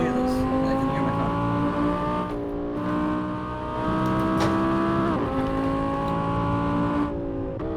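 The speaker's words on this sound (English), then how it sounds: "I can hear the fucking R8 from up here." An Audi R8 engine in the Assetto Corsa racing game revs hard and steadily, its pitch climbing through the gears and dropping at each shift, loud and constant under occasional overlapping talk.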